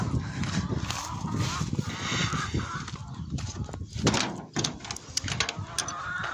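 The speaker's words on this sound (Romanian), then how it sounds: "Boboce de rață îi aud că zbiară așa măcăne" Busy, overlapping quacking and honking from a group of ducklings, close and continuous, with clattering noises mixed in.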